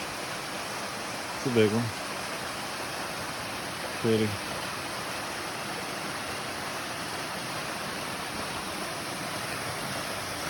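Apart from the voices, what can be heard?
Ray Cove Waterfalls on the Bartram Trail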